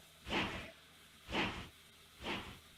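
A steam locomotive hisses out steam in three evenly spaced, fairly faint bursts, each swelling and fading over roughly half a second.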